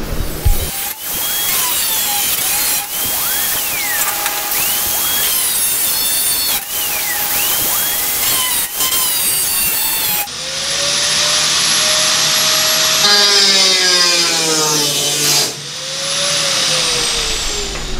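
A power tool cuts slits into a car hood, sharp grinding bursts and whines repeating in short strokes, then a louder sustained high-pitched cutting run with rising and falling pitch, close and harsh.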